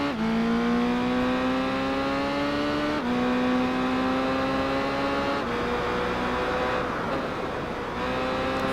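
Racing motorcycle engines, a Kawasaki and a Honda, scream through high revs in the Tourist Trophy video game, a steady rising whine with sharp drops at each gear shift, loud and continuous.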